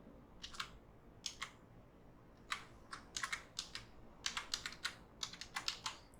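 Quick bursts of key clicks on a computer keyboard while a password is entered, crisp and close, in short irregular runs separated by pauses, with no talking.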